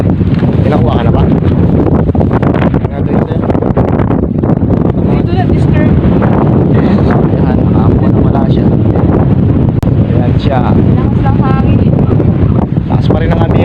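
Strong northeast monsoon wind, the amihan, sweeps the coast, buffeting the microphone in a loud, unbroken roar and rumble from start to finish, with voices faintly under it.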